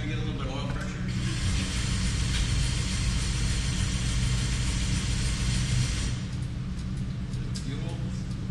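Race engine at an engine-building shop, fired up after oil pressure is primed, roaring loudly and steadily for several seconds before settling slightly toward the end; voices are faintly present underneath.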